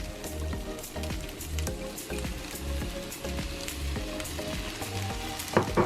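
Fried rice with soy sauce sizzles loudly and continuously in a pan, the dense crackling hiss dotted with irregular pops and stirring scrapes.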